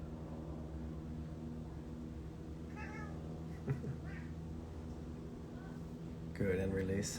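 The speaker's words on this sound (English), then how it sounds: "My cat has joined us." A house cat named Jackson meows a couple of times nearby during a quiet meditation session, with a louder meow near the end over a steady low background hum.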